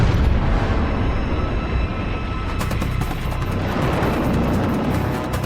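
Torpedo explosion aboard the destroyer escort USS Smith in battle, a loud sustained roaring blast with dense rumbling, lasting the whole stretch without pause or letup.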